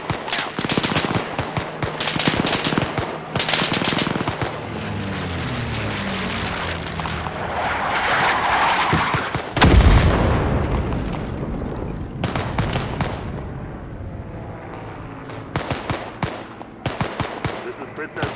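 Artillery and gunfire from the Arma 3 game, with repeated loud gunshot bursts and heavy booming blasts building to a big explosion near the middle, then further sharp shots, all mixed with radio-style voices talking.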